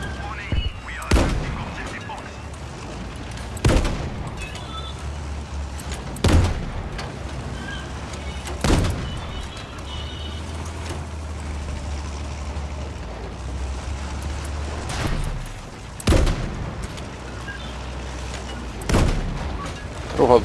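Battlefield V gameplay combat brings deep, booming gunshots and explosions at irregular intervals, each a sudden loud thump over a low rumbling background, while a player talks now and then.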